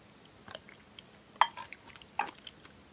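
Ramen broth being eaten, Samyang Korean beef-flavored instant noodles: a few soft slurps and wet mouth sounds, with two sharper sips standing out close to the mic amid quiet chewing.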